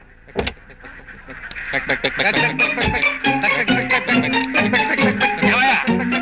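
A flock of ducks quacks in dense, overlapping calls while being herded slowly across a village road, the chorus growing louder and busier near at hand.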